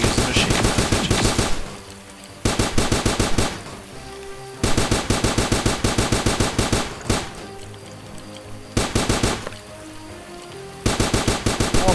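Machine gun fire in the Starbound video game, long rapid bursts of sharp repeated shots broken by short pauses, loud and close with no talking.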